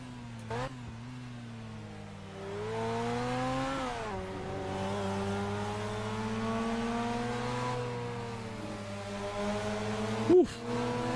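A race car engine in a sim racing game, driven with H-pattern shifting on a PXN V12 Lite wheel and Fanatec CSL rig, holds a steady rising drone with pitch sweeps through shifts, plus a short sharp burst near the end.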